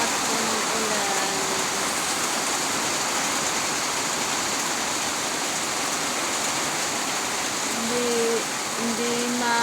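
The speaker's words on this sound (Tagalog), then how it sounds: "Sobrang lakas po ng ulan." A downpour of heavy rain roars steadily and loudly from start to finish, with a faint voice briefly audible beneath it near the end.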